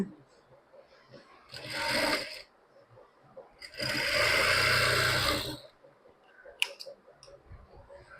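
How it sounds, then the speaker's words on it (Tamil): Sewing machine stitching a blouse lining along a marked line, two short loud whirring bursts separated by quiet, then a few faint clicks. "அந்த புள்ளியில் கரெக்டாக தையல் போட்டுக்கோங்க."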